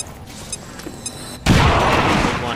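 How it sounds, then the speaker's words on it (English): A grenade goes off in the video game XCOM 2: a sudden loud blast bursts out of a quiet background and leaves a dense, rumbling roar that keeps going to the end. "And then throw this grenade. Bombs away!"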